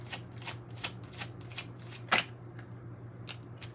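Tarot cards being shuffled in a steady series of soft riffling bursts, with one sharper snap near the middle, over a low constant hum; no speech.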